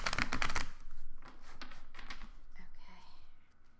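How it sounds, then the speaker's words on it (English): Crisp papery riffling of tarot cards being shuffled, a dense burst at first then lighter repeated flicks, close by with a soft voice murmuring faintly. "let me shuffle one more time"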